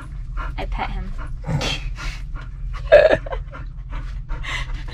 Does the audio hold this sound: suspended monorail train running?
no